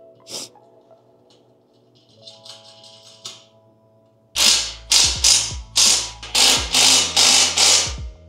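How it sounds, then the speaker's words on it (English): A ratchet wrench tightens M8 hardware securing the steering shaft bearing on a drift kart, first with light clicks, then a run of loud, close ratcheting strokes in a regular rhythm. "You're gonna secure the steering shaft bearing with the M8 hardware."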